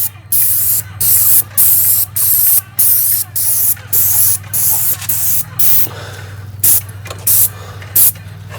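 A sprayer applying stucco accents to a building exterior hisses in a series of short, loud bursts with brief pauses between them, close by, over a low steady hum.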